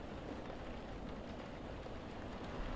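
Rain in the video game Coffee Talk pours as a continuous, even wash of patter, moderately loud and steady, with no voices over it.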